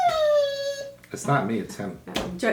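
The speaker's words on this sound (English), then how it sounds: "it's starting to annoy me, and that's my dog." A dog lets out a long falling howl that drifts into a whimper, close and loud, then a person starts talking over the tail end.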